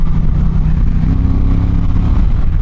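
An Indian Challenger cruiser motorcycle rides down the road, its engine a loud, close, steady low rumble with a faint pulsing throb and wind noise.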